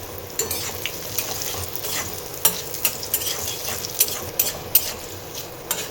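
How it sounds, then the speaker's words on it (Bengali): Coconut pieces, asafoetida and five-spice fry in oil in a wok, a steady close sizzle broken by regular clinks and scrapes of a spatula stirring against the metal. "একটু হিং, কটা নারকেল ভেজে নেব।"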